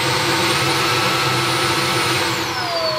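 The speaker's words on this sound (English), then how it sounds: "So you've got 3 levels of power in this vacuum cleaner. It sounds very powerful." A ROIDMI X30 Pro cordless vacuum cleaner runs at a loud, steady whine close by, its pitch shifting near the end as it changes between power levels, with no talking.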